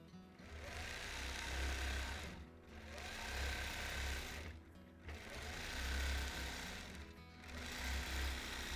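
A sewing machine stitches a quilt in three long, steady runs of rapid mechanical whirring with a low motor hum, each broken by a brief pause, close and fairly quiet with no talking.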